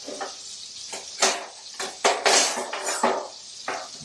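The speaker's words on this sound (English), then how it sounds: "Gently, most gently, turn these guys around." Delicate Dover sole fillets are turned in a hot pan with two spatulas: a series of metallic scrapes and clinks over a soft sizzle, several sharp contacts spaced irregularly, close and fairly loud.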